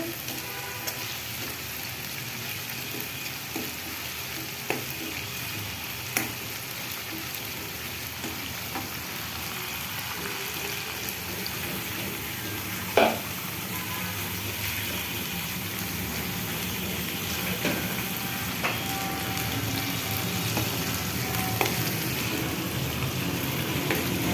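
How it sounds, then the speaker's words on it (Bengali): Ginger and garlic fry in a pan, a constant close sizzle and crackle lasting the whole stretch, with occasional sharp clinks and scrapes of stirring and no speech. "আদা রসুনটা একটু ভাজা ভাজা হয়ে গেলে"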